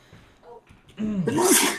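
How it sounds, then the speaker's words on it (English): A single loud sneeze bursts out after a quiet intake of breath, close and sharp, ending in a hissing release. "You sneezing all the way out there."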